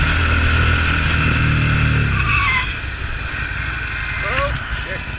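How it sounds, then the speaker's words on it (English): A Harley-Davidson Street XG 750 with its rear brake locked, the tire screeching in a loud skid over engine noise, then fading as the bike slows, with brief squeals afterward. "I locked up the rear brakes."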